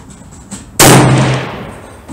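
A single loud, close report from a Savage 111 LR Hunter rifle in 7mm Rem Mag fitted with a muzzle brake, a sharp blast that decays over about a second after a quiet lead-in.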